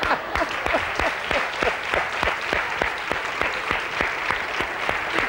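Audience applause at a live show, a dense run of claps with a regular rhythmic beat, loud and close, with no voices over it.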